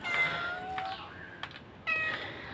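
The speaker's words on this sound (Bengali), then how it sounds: "এই যে আমার একটা বিড়াল" A cat on a small farm meows several times, with clear tonal cries near the start, a shorter call in the middle and another strong meow near the end, close by and alone without talk.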